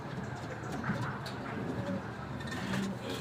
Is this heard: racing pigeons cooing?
yes